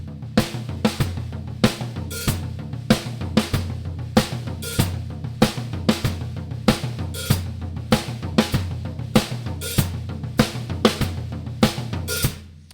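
Rock drum beat played on the toms with a hi-hat on the off-beat of four, steady repeating pattern of punchy tom hits and crisp cymbal ticks, close and clear, with no talking.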